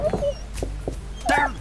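Sleeping dog in the Hello Neighbor video game whimpering: a few short, high whiny yelps and whines spread across under two seconds, fairly close and clear, with no talking over it.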